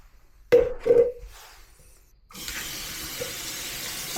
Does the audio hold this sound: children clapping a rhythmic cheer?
no